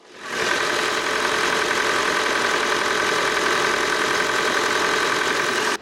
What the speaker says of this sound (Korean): 엔진룸 열었고요 소리 한번 들어볼게요